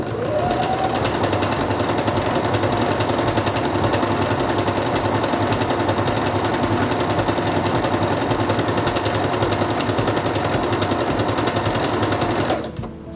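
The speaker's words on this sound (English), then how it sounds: "Stop sewing when you reach the end of your fabric and press your automatic thread trimmer." A Quantum Stylist 9960 sewing machine stitches fabric in a steady, rapid mechanical chatter that runs continuously for several seconds up close, then stops abruptly near the end.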